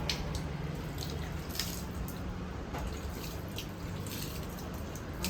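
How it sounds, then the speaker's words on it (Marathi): Water poured little by little into potted plants on a rainy day, a continuous close splashing and dripping wash with a faint steady hiss, no voices over it. "आता थोडं थोडं पाणी घालते"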